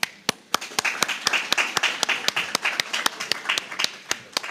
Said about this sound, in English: You deserve a round of applause for your efforts.